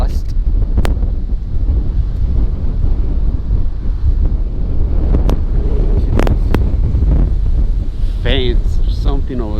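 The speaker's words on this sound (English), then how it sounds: "Right here we're getting some pretty strong wind gust." Strong wind gusts buffet a GoPro 10 fitted with a Rode VideoMic Pro+ and dead cat outdoors near a muddy field, a loud, constant low rumble with sharp pops and faint voices underneath.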